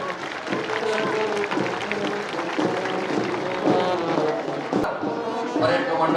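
Applause for a march past parade at an Independence Day ceremony on a parade ground in Guna, a steady dense wash of clapping from a crowd lasting throughout, with voices mixed in.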